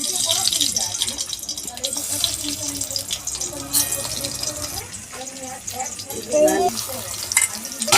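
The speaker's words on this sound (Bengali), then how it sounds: "তেল গরম হয়ে গেছে, বেগুনগুলো দিয়ে দিই।" Eggplant slices frying in hot oil in a Bengali home kitchen, a steady bright sizzle and crackle with stirring clatter and water-like hiss, with a voice talking over it.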